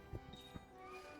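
A cat meows a few short times, faint and fairly close, over low background noise.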